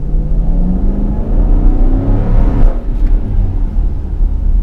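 A 2021 Dodge Durango Citadel Platinum Edition engine pulls hard under acceleration, a loud, deep rumble with a rising engine tone heard from inside the cabin, steady and unbroken with no talking.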